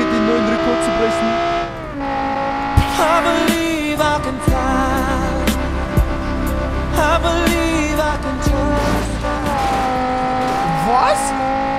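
An Audi R8 engine revs hard and accelerates in the BeamNG driving game, a loud sustained whine climbing in pitch with brief tire squeal and impact thumps along the way.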